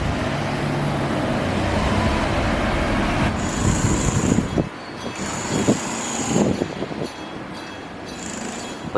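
A hanging monorail train in Tokyo rumbles past for a sustained stretch, its rolling noise steady and close, with recurring high squealing tones from the running gear and a few sharper clunks in the second half.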